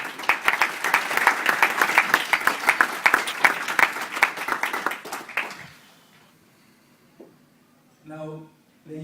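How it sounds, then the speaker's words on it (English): A room of graduates at a university graduation dinner claps vigorously for several seconds, then the applause dies away into quiet, with a brief voice at the end. "Just give yourself a round of applause"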